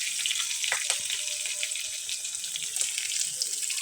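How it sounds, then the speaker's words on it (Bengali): Chopped shrimp and chillies frying in a pan, a close, bright, continuous hiss and sizzle with small crackles and a faint clink or two. "এর মধ্যে এবার দিয়ে দেবো চিংড়ি মাছ কুচিগুলো। এগুলো ভালো করে ভেজে নিব।"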